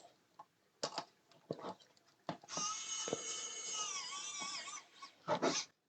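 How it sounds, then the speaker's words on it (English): Putting a nut into a Spider-Man Iron Spider model and screwing it in makes small clicks and taps, then a sustained whirring drone from the tool for a couple of seconds, quiet and close. "I'll put a nut in there and screw that in"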